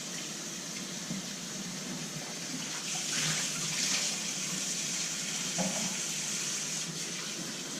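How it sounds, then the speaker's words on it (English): Cold water runs steadily from a kitchen tap over shrimp being prepared for spicy noodle soup, a continuous hiss with slight splashing changes, at moderate level. "the water that we're running here is cold"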